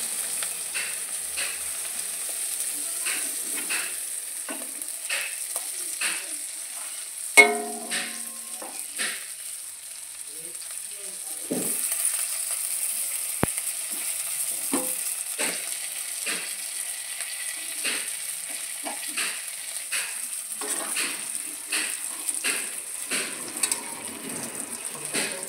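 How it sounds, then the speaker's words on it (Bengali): Pieces of fried fish go into a simmering curry with a quiet, steady hiss. Scattered light clicks and taps of a utensil run throughout, with one sharper clatter near the middle. "মাছ ভাজা হয়ে এসেছে, ঝোলে দিয়ে দিলাম কিছু মাছ।"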